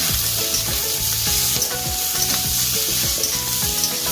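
Tomatoes, two dried chillies and cashews frying in a pan for paneer lababdar, a loud, continuous close sizzle broken by repeated scraping and stirring strokes.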